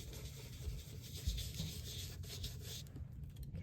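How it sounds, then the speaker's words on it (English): Ink being rubbed through a stencil onto paper, a soft, steady scratchy rubbing up close that continues for a few seconds with no talking. "And then I just rub it on there on this rose."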